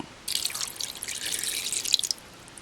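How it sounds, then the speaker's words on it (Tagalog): Water pours and splashes into a pan of pork and salt for string bean adobo in a steady, bright trickle lasting a couple of seconds, close by and fairly quiet. "Lagyan natin ng tubig."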